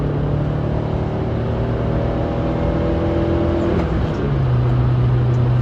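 A car engine revs hard and loud, its tone climbing steadily before dropping sharply at a gear shift and settling into a lower, sustained drone; no voices.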